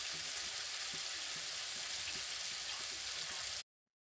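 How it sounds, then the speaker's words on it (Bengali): Bitter gourd fries in a pan of oil with a dense, steady sizzle that holds evenly, with faint low bubbling under it, then stops abruptly. "তো প্রথমে উচ্ছেগুলোকে ভালো করে ভেজে নিচ্ছি"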